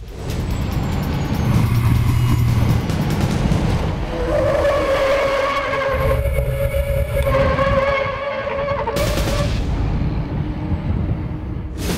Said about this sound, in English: That truck is never gonna be able to slide.